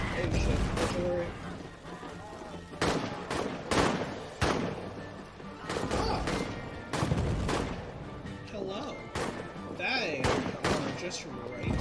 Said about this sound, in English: Oh shit, artillery.